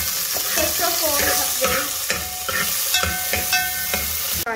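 Onions frying in oil in a pot for pulao, browned deep, a loud close sizzle with repeated scraping stirs and clatter of a spoon against the pan.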